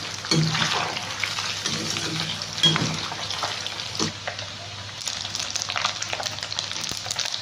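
Chicken fries in a pan with curry leaves, a dense continuous sizzle heard up close with occasional stirring scrapes and knocks throughout.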